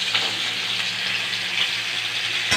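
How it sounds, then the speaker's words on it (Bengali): Minced meat, meant for a potol dorma filling, frying in a pan with a steady, close sizzle throughout, a brief soft scrape near the start. "সেই মাংসের কিমাটা এখন ভেজে নেব"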